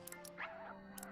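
A hungry mongrel dog in Scribblenauts Unlimited gives a short, faint yip or whimpering bark, a single brief cartoonish call amid quiet game sounds.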